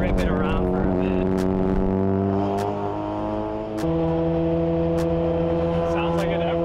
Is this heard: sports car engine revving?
yes